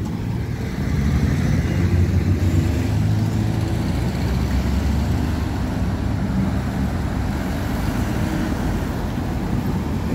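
Marco Polo Torino 1983 city bus, its engine a steady, loud, low diesel rumble throughout with traffic noise around it.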